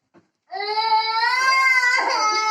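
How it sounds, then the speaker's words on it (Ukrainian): A small child cries loudly and continuously at a St. Nicholas Day celebration, with a wailing, high-pitched cry held for about two seconds after a brief faint sound. "А хто то в нас так плаче?"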